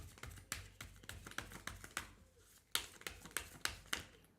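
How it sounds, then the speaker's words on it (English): Quick, crisp tarot card riffles and slaps repeat in short bursts, close and dry, with brief pauses between the shuffles. "I'll shuffle for one more"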